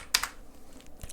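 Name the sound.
typing on a computer keyboard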